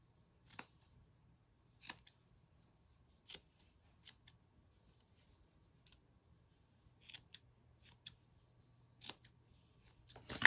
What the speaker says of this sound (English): when I trim my pom-poms, I like to smush them together